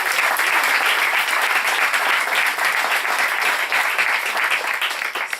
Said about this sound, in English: And so I think that Javier really does deserve an applause.